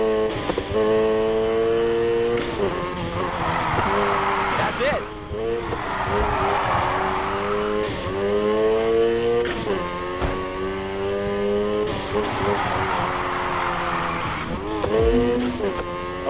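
Cars drift and race in Need for Speed Heat, engines revving and falling in repeated swells while tires squeal through long slides, a voice speaking over the game sounds.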